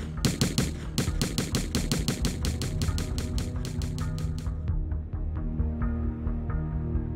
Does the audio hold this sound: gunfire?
yes